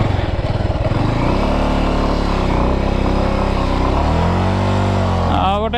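A Bajaj Avenger motorcycle climbing an off-road hill track, its engine droning steadily and loud at close range, pitch rising and falling as the rider works the throttle.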